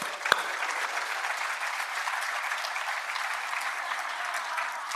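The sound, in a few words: audience applause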